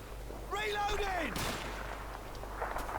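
Call of Duty 2 gunfire in a British army campaign battle: a loud blast crack mid-clip after a tonal whine, followed by scattered distant shots, with a voice talking over it.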